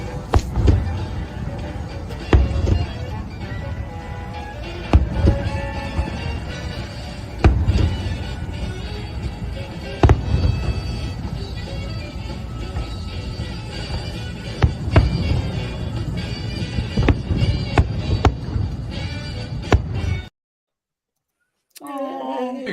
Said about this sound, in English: there's only one way to finish the evening, and that's with some fireworks.